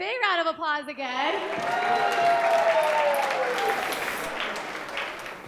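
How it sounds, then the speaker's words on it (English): Audience applause fills a charity gala hall for children, steady and loud for several seconds after a sung passage fades out at the start, with cheering voices mixed into the clapping. "let's give everyone a big round of applause again"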